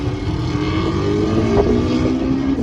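Race cars at a drag strip rumble past nearby, a loud sustained engine roar with rising and falling tones over a couple of seconds and no talking.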